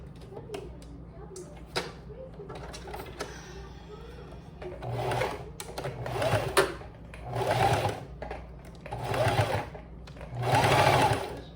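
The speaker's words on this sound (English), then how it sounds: "All you're gonna do is sew this edge and sew that edge, and you're done." A sewing machine stitches the edges of a scrap-fabric knotted headband in several separate bursts of whirring, each a second or so long, close by, with a few quieter moments and bumps between runs.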